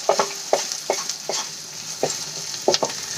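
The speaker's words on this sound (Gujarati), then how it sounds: "તો બે મિનિટ માટે આપણે એને સાંતળી લઈશું" Vegetables sauté in a pan for a Maggi snack, with a constant sizzle under repeated scraping spoon strokes that come about every half second to a second, up close and with nobody speaking.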